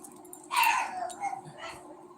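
A dog confined in a cage gives a short whining, yelping cry, fairly close and moderately loud, followed by a few weaker whimpering sounds, with no talking over it.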